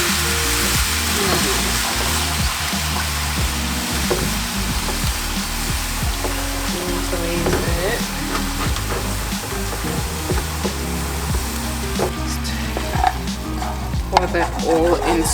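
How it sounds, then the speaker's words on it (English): A hot pan used for browning beef for a stew sizzles and hisses steadily as water is added to deglaze it, with light stirring scrapes and bubbling, close and continuous. "So quickly deglaze the pan,"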